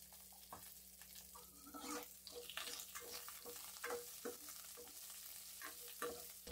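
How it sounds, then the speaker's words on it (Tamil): Curry leaves and dried red chilli fry in hot oil for Tamil sambar, giving a faint sizzle broken by repeated stirring scrapes and light clicks at close range. "கழுவி வச்சிருக்க கருவேப்பிலை ஆட் பண்ணிக்கலாம்."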